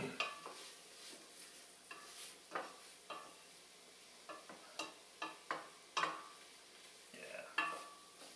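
Mushrooms coated in olive oil cook in a pan for risotto, with a faint sizzle under repeated soft scrapes and clicks from stirring.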